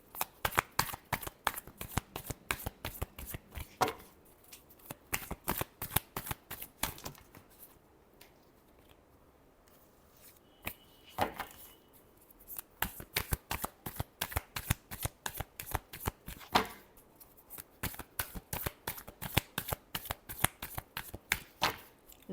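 A deck of tarot cards is shuffled over and over, a fast rhythmic run of crisp riffling flutters close by, with a brief quieter lull midway before the steady shuffling resumes.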